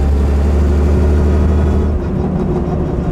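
The supercharged 7.1-litre engine of a 1928 Mercedes SSK drones loudly and steadily while driving, with a deep, rough low rumble that eases slightly toward the end.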